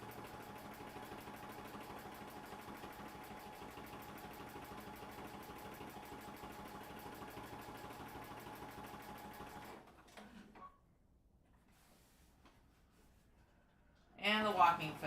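A sewing machine fitted with a walking foot stitches binding on at a fast, steady, rhythmic whir for about ten seconds, then stops. A short stretch of quiet follows before a voice speaks close by.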